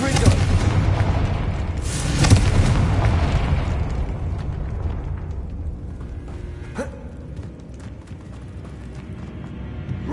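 A Confringo fire spell in the Hogwarts Legacy video game bursts with a loud, deep boom that rolls into a long, fading rumble, with a voice speaking over the blast.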